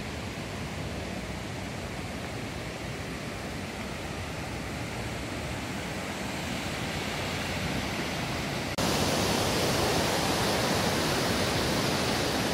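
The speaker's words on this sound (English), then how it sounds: "That is a 60 meter waterfall." Steady broadband roar of a 60 meter waterfall at Inglis Falls, heard from a viewpoint as continuous rushing water that grows louder partway through, with no voices.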